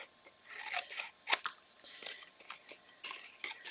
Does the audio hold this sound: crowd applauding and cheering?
no